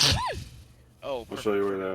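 A single sharp human sneeze bursts out close at the start, followed by brief conversational speech from people nearby.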